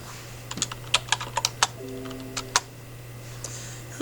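Quick bursts of keystrokes on a computer keyboard as a search is typed in, close and clear over a steady low electrical hum, pausing briefly between short runs of taps.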